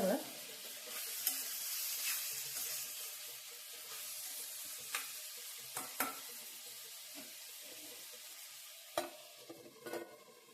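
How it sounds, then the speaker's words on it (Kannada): A spatula stirs banana stem stir-fry with coconut and seasoning in a pan: soft scraping and rustling over a faint sizzle, with a few sharp clinks against the pan, fairly quiet and without talk. "ಇವಾಗ ಚೆನ್ನಾಗಿ ತಿರುಗಿಸ್ಬೇಕು."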